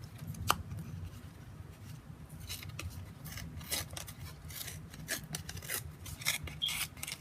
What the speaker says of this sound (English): you always want to tear towards you because you want to get that effect of it being torn